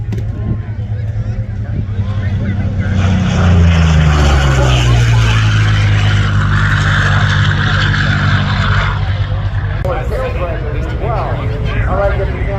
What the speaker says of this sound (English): Here comes the P-40 once again from our right.